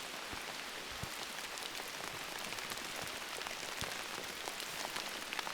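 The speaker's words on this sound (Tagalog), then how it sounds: "grabe lakas ng ulan" Heavy rain pouring down at a nature campsite, a steady, dense hiss of drops pattering on surfaces with no voices.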